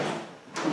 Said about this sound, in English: Again, the drawers slide in both sides.